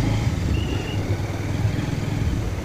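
A motorcycle rumbles at low speed as it is ridden in to park near Taudaha Lake in Kathmandu, a steady close engine drone with no voices over it.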